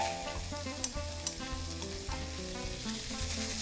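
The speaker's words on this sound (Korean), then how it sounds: "콩나물 넣고 나서부터는 좀 재빠르게 볶아냅니다" Bean sprouts stir-fried over high heat in a pan sizzle loudly and steadily, close up, with occasional scraping knocks of the spatula as the sprouts are tossed.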